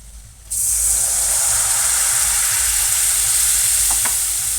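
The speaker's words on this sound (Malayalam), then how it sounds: "ഇനി നമ്മൾ ഇതിലേക്ക് കുറച്ച് വിനാഗിരി ഒഴിച്ചു കൊടുക്കണം" Vinegar poured into sizzling chicken pickle masala, a sudden loud hiss and spray bursting in after a brief quiet start and continuing strongly, with a couple of faint clinks near the end.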